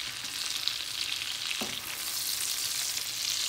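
Fried rice with shrimp sizzles steadily in a hot pan as it is stirred, a continuous close frying hiss with one brief scrape partway through, no voices.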